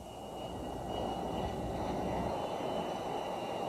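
An S-3 naval aircraft at Cecil Field Naval Air Station, a steady distant jet engine hum and whine that swells slightly, with no talking.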